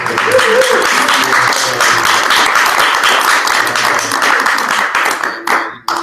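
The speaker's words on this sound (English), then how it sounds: "I want to first just give these ladies a round of applause" Loud, dense applause from a crowd honoring the women at a community food gathering, sustained clapping with voices mixed in before it thins out near the end.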